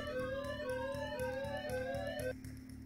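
A burglar alarm in the video game Thief Simulator wails loudly and steadily, with repeated rising electronic sweeps over a low hum, before cutting out abruptly near the end.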